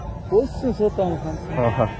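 Several short wavering bleats from sheep close by at the Angallu sheep market, overlapping one another with faint background chatter.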